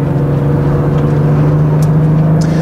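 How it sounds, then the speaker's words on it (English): Cars on a hot lap around a track during a BMW 3 Series drive, their steady engine drone holding loud and continuous throughout, with a constant tonal hum and no talk over it. "They're already on their hot lap, so we let them pass."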